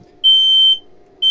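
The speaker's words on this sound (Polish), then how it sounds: "sygnalizacja dźwiękowa od czujniku dymu." A smoke detector in an off-grid photovoltaic installation gives a loud, shrill, piercing beep of about half a second, followed by a pause and the start of the next beep.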